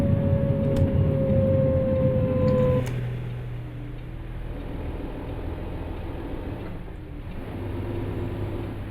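In Euro Truck Simulator 2, a steady low mechanical hum and whine drop in pitch as a bus's retarder brake engages, with a faint ticking and no voices.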